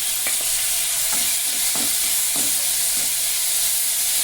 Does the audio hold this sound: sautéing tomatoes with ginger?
yes